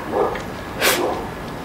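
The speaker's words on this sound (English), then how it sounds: "That's my dog, guys." A dog barks twice in the room, short muffled woofs spaced under a second apart, heard indoors against a steady background hiss.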